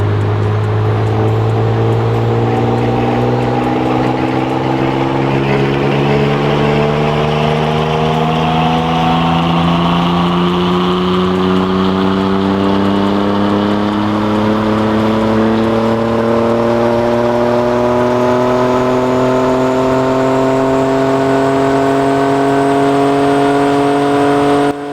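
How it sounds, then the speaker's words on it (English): A car's engine in Car Parking Multiplayer 2 climbs steadily through the revs in fourth gear as turbo boost builds, a loud continuous rising drone with no pauses and no voices. "I'm going to be driving the car in 4th gear to get smooth and slow acceleration"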